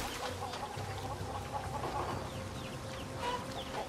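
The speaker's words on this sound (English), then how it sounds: "Hello, chickens. Oh, look at the little ones." Chickens clucking in the video game Far Cry 6, several birds giving soft, scattered clucks over a low ambient background.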